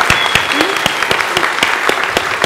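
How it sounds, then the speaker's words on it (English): An audience at a university in-conversation event claps loudly after the talk, with crisp, closely spaced claps ringing out over a continuous bed of applause. "Let's do one more round of applause for Fenella and John."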